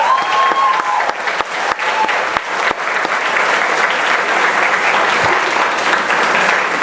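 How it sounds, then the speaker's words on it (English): Graduation ceremony crowd applauding the parents, loud, close, dense clapping with sharp individual hand strikes at the start, settling into a sustained roar of applause. "I'd like to give a round of applause to all of the parents in the room."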